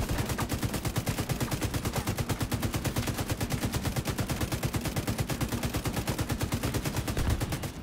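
A turret in Division 2 fires a long, rapid, evenly spaced burst of automatic gunfire that stays loud and close without a break.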